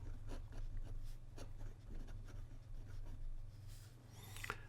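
An extra fine Pelikan M600 fountain pen scratches faintly across smooth Rhodia paper in short, close strokes, with a soft rustle near the end.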